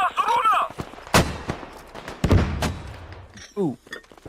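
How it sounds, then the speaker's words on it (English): Mortar explosions in an online shooter video game, heard as several sharp, heavy thumps and booms spread through the clip, close and loud, with voices talking and exclaiming between them. "Oh, mortar!"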